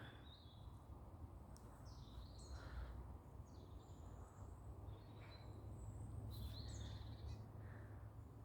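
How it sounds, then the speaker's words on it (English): Outdoor birds chirp and call intermittently over a steady low rumble of wind or distant traffic, soft and somewhat far away. "I love the sounds of the birds, the bird song going on"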